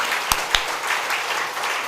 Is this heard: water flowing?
no